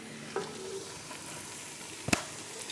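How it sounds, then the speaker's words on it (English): Étouffée base being stirred in a pot, a faint soft sizzle with a low scrape of the spoon and one sharp knock of the utensil against the pot near the end. "just in case you're wondering, yes, I'm still stirring"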